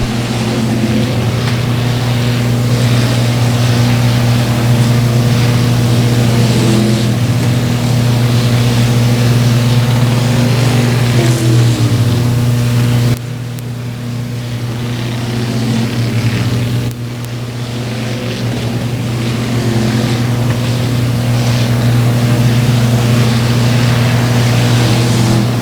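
Race car engines roar around Buffalo Creek Speedway in a loud, continuous, droning blend that swells and fades slightly as the cars circle, with a brief dip partway through and no talking.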